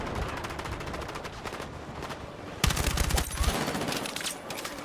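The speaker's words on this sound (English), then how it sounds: "Is it me or is that person taking so many bullets?" Gunfire in the video game Battlefield 6, with dense rapid automatic bursts and overlapping shots throughout and a louder, heavier volley midway, sustained and close.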